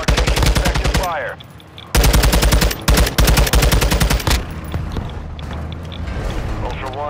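Rapid automatic gunfire rips through a video game firefight in sustained loud bursts with brief gaps, mixed with heavy impacts and a radio voice talking over the action.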